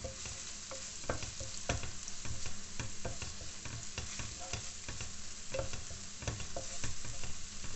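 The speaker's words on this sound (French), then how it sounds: "Je vais faire revenir." Chopped coriander and parsley sauté in a hot pan, with a steady close sizzle broken by frequent scraping and stirring knocks from a utensil.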